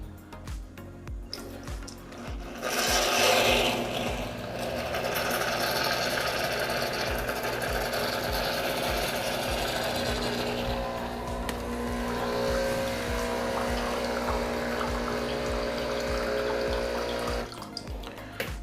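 A Breville Barista Pro espresso machine pumps an empty shot, a steady buzzing pump drone with water hiss that starts after a few quiet clicks and runs loud and continuous, close up, to the end.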